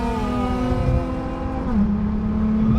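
A widebody Nissan GT-R pulls hard on a highway, its engine tone climbing steadily in a smooth rising whine before a brief gear-change dip and renewed pull, loud and close from inside the car.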